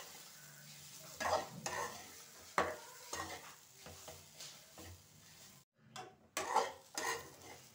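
Grated raw coconut is lightly roasted in a pan while a spoon stirs and scrapes it in repeated scraping strokes over a soft sizzle, close and moderately quiet, with no talking.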